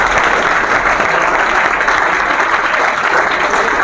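A seminar audience gives a loud, sustained round of applause to welcome a visiting professor, dense and continuous clapping filling the hall without speech.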